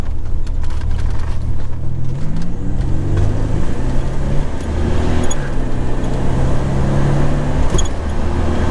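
A 1987 Buick Regal Turbo Limited accelerates hard through its gears, the loud, close engine note climbing in repeated sweeps with short breaks at each shift, no talking over it.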